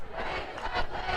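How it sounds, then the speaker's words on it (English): Homecoming football crowd on a warm, windy night roars in a dense, steady wash of cheering and shouting for about a second. "They're still trying to get loud and rowdy as much as they can on this warm, windy homecoming night."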